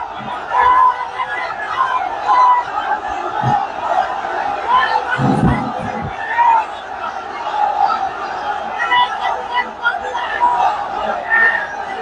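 Large crowd at a sermon in Dhaka roaring a takbir chant: loud, massed voices rise in repeated waves of shouting over a steady din of hubbub, with a few sharper bursts standing out.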